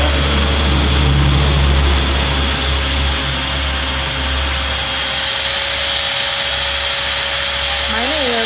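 A high-power electric machine used to shape bonsai trees runs with a loud, continuous whine and steady drone throughout, a constant tone holding unchanged until a brief warble near the end.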